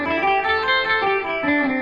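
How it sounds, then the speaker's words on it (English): Electric guitar running up and down a pentatonic scale with a pick, a steady stream of distinct, evenly spaced notes with a slightly driven effects tone, played alone and close. "Like if I just ran through a pentatonic scale just with my pick, it would sound like this."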